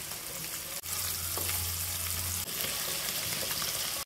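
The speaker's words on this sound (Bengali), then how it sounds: "ডিমটা ভেজে নিলাম" A duck egg fries in a pan with a steady, close sizzle and crackle across the whole stretch, briefly cut at two moments, with a low hum partway through and no talking.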